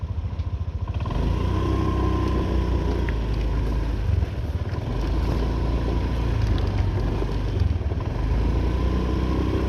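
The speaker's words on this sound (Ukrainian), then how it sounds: "Це Honda заводиться беззвучно, двигун працює тихо." A Honda PCX 125 fuel-injected scooter, JF28 model with no mileage, idles with a low, smooth, quiet engine hum that starts after a brief moment and runs steadily with slight wind noise at the microphone.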